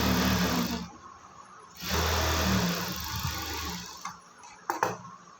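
A sewing machine top-stitches lining cloth onto a cotton summer frock, running in two steady whirring bursts separated by a quieter pause, with small clicks near the end.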